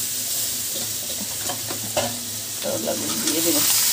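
Turmeric, chili, coriander and salt fry in hot oil for shrimp with bitter gourd, a dense close sizzle running throughout with a few soft spatula scrapes and stirs.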